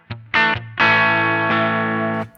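Electric guitar played through a MayFly Sunrise amp simulator with a touch of delay or reverb, a short picked note then two sustained ringing chords, loud and close with no talking.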